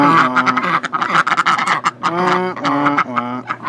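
Ducks at a chicken coop quacking loudly and close by in rapid, overlapping bursts of harsh, nasal calls, nearly continuous with only brief pauses between runs.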